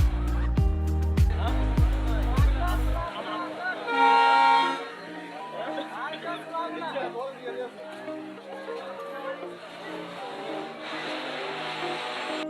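A train on the way to Dhaka, stopped at Padma rail station, sounds loud, close horn toots at the start. Voices and background station ambience follow at a lower level.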